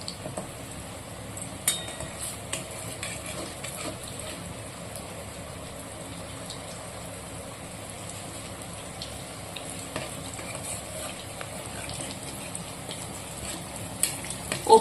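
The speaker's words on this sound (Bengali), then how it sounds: "এগুলো আমি এবার এই কোপ্তার বলগুলো লাল লাল করে ভেজে নেব" Cauliflower and bhetki fish kofta balls fry in hot oil, a steady soft sizzle with occasional clinks of a spatula or pan, continuous and close.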